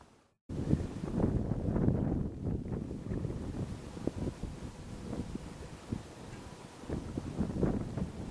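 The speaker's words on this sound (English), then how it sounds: "it got really gusty all of a sudden" Gusty wind at a lakeshore during night fishing buffets the microphone with a loud, rough roar that starts abruptly and surges and eases in uneven gusts.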